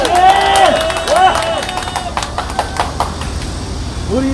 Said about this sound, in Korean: 우리 이두봉 검사장을 위해서도 큰 박수 쳐주시기 바랍니다